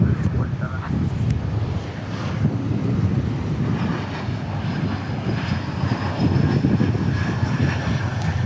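An Embraer E175 regional jet arriving at Dallas Fort Worth Airport from Manhattan, Kansas sends out a loud, continuous engine roar with gusty wind noise and a few brief clicks.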